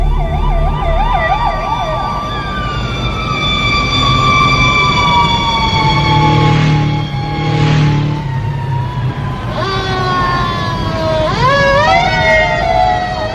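Emergency vehicle sirens wail loud and continuous, several overlapping with rising and falling pitch sweeps and a brief yelp-like warble, over steady traffic rumble and with no voices.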